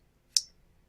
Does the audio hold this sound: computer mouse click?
yes